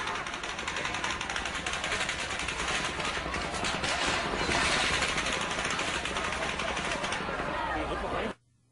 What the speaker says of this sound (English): that sounds to me like a machine gun